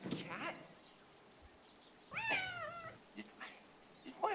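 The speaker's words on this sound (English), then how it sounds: "Yeah, you stupid cat." A cat in the Phantasmagoria video game gives several distinct meows, one long wavering cry in the middle and shorter calls before and after, close and fairly clear over a quiet background.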